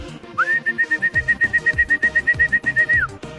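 Soft rhythmic cooing of homing pigeons repeats in quick pulses, with a sustained high whistle running over them for a few seconds.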